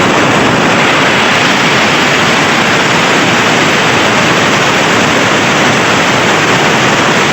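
Water and pressurized air blast out of an air compressor's drain in a loud, continuous hiss that holds steady and unbroken from start to finish, with no voices.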